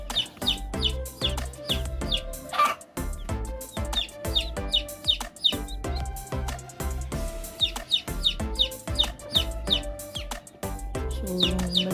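Rhode Island Red chicks chirp in a busy, overlapping series of short high peeps, close by and continuous, with some fuller clucking sounds mixed in.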